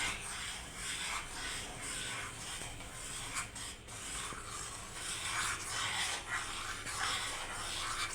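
Semolina being stirred into ghee and water in a pan over a low gas flame, a continuous scraping and rasping with a dense sizzling hiss, steady and close with no voices.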